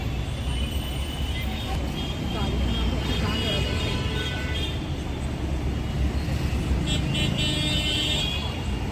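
Interior of a moving travel bus: a steady, loud engine and road rumble fills the whole stretch, with faint tonal whines and occasional horn-like toots, and voices talking indistinctly in the background.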